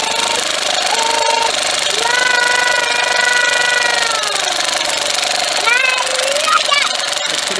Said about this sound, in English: power drill can do it.